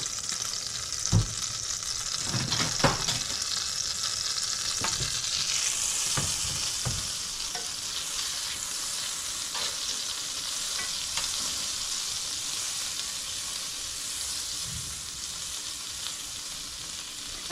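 Shrimp and scallops sizzle steadily in hot oil in a pan for fried rice, a continuous crackling hiss broken by a few sharper stirring knocks near the start, close by with no talk.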